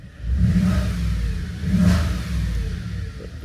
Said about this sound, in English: So like I said, it's got the V8, not the loudest thing.